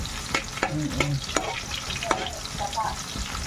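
Pancit noodles being stir-fried in a pan give a steady sizzle with repeated scraping and tossing strokes from the utensil, close and fairly loud.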